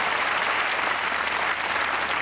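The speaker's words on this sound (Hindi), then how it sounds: "तालियां बजाने ख़वातीन और हज़रात।" Dense, steady applause from an audience at a staged program fills the whole stretch without a break, loud and continuous, with no talking over it.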